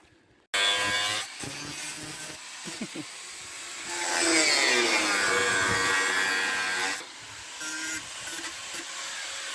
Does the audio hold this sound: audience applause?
no